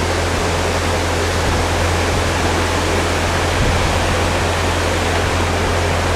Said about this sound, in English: What a lovely weir.